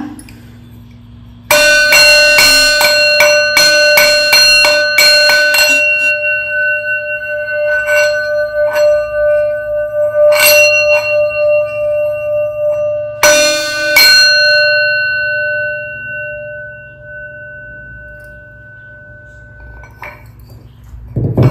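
A small hand bell rings for a tarot reading: a rapid flurry of bright metallic strikes, then scattered single rings that fade, and another short burst later. It is loud, close and heard alone.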